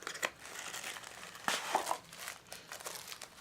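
Paper crumpled and crinkled by hand in a quiet room, a few crisp bursts of crackling scattered over a few seconds with a sharper crunch midway.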